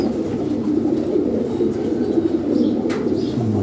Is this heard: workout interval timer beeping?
no